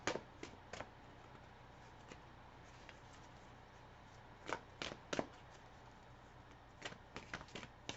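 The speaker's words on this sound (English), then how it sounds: "So I'll pull some cards on that." Tarot cards being shuffled by hand: a steady soft riffling hiss broken by sharp, crisp card snaps and flicks, several clustered bursts near the start, middle and end, close and fairly quiet with no voice.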